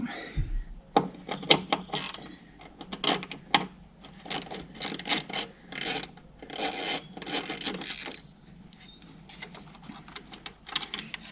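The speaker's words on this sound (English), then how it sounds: "Let's get the 1/4 inch drive out." A 1/4 inch drive ratchet on an 8mm socket working headlight fasteners on a VW Transporter T4, bursts of close, quick clicking with short pauses between.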